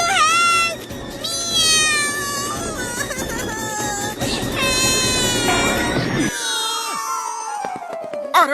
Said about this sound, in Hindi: अरे अरे बिल्ली मौसी तुम रो क्यों रही हो?